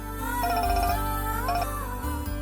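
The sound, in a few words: phone ringtone, uncle calling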